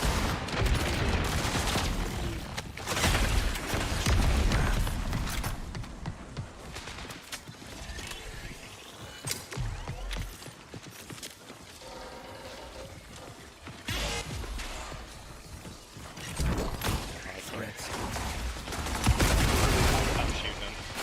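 Scattered gunfire and battle noise in a shooter video game, bursts of shots mixed with mechanical clatter under frequent talking.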